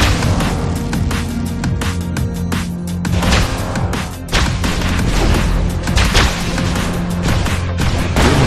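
Guns fire in the Mental Omega strategy video game, a dense, loud barrage of booms and crashes layered over one another without pause; no talking.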